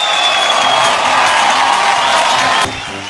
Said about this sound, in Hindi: एक बार हमारे जीके साहब के लिए जोरदार तालियां हो जाए।